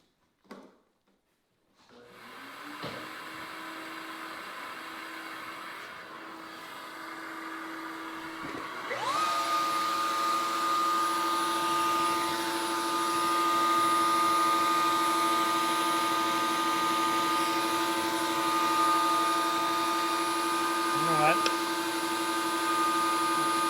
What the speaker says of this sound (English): I just want to hook up the vacuum cleaner to